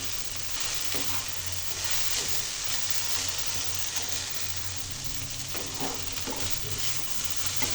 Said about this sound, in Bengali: অল্প আস্তে ভেন্ডিগুলো সময় নিয়ে ভেজে নিতে হবে